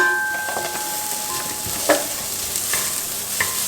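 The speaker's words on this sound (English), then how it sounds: "I always like to fry my curry paste to get the fragrance" Curry paste fries in a pan, a steady sizzle with scraping stir strokes and a few sharper spatters, close and alone without talk.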